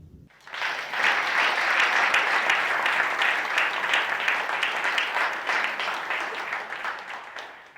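Applause from an audience at a STEM student awards celebration rises quickly into dense, sustained clapping that holds steady for several seconds before easing slightly toward the end.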